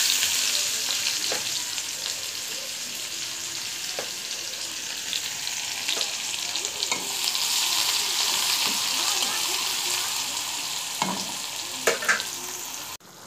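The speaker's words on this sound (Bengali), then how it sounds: "এই তেলেতেই বন্ধুরা আমি পেঁয়াজটা দিয়ে দিচ্ছি।" Sliced onion fries in hot oil with a steady, close sizzle and crackle, with a few soft utensil clicks and stirring scrapes scattered through.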